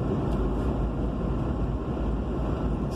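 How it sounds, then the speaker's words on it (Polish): Outdoor wind in the Polish mountains near Jasnowice and Bukowiec on a ski-touring day: a steady, loud, broadband rumble buffets the microphone without a break, with no voices. "Z tego co czuję, to tutaj wieje. Też fest."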